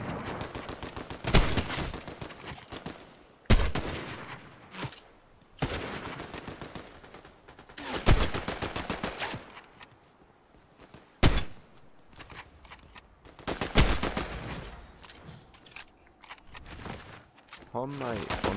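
Bursts of gunfire from an assault rifle and single sniper cracks in a Fortnite match, loud shots separated by short pauses, with a player talking between and over the firing.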